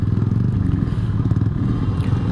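A Yamaha RX-King motorcycle fitted with an Altec C20 exhaust rumbles loudly and close, a rapid pulsing two-stroke beat with a rattly, crackling edge, with no voices.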